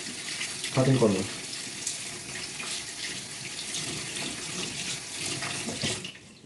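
Water runs steadily from a kitchen tap while hands are washed with dishwashing soap. The flow is a continuous hiss and splash, with a brief louder burst near the start.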